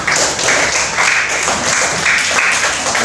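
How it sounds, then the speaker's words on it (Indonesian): Pupils in a classroom clap together for their group work, a loud close burst of hand clapping in a pulsing, roughly rhythmic pattern. "Tepuk tangan untuk kita semua."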